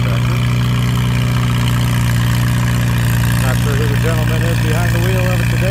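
A Super 8 antique tractor idles at an antique tractor pull, a loud, steady low engine drone with a constant hum throughout, and faint crowd or announcer sounds in the background.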